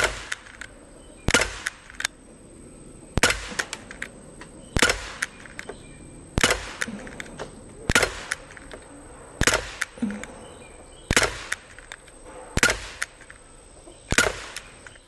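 A Daisy Powerline 5501 CO2 BB pistol fires Umarex steel BBs, ten sharp snapping shots spaced evenly about every one and a half seconds, each followed by a brief metallic ring, with no talking.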